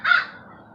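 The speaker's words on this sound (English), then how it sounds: "This bird better go away." A single loud, harsh crow caw sounds close by, then fades quickly into quiet background.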